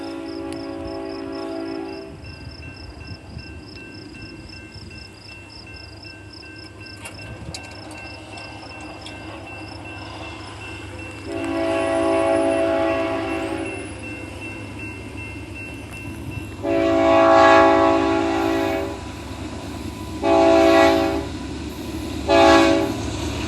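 An eastbound freight train passes with a steady rumble, and its horn sounds in several long, loud blasts that grow in strength toward the end.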